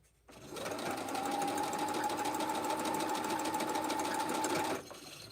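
A sewing machine stitching the seams of a quilt block runs at a steady, moderate speed, whirring in one continuous burst for about four and a half seconds before stopping abruptly.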